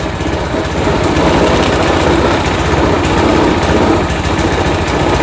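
An old Craftsman walk-behind trimmer's small engine runs steadily with a loud, buzzing drone close by for the whole stretch.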